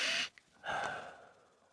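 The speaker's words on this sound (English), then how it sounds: "I forgot to do the sniff test." A person sniffs a deck of borderless pocket-sized Marseille tarot cards up close: a sharp nasal intake, a tiny click, then a longer drawn-out inhale tapering off, alone and quiet.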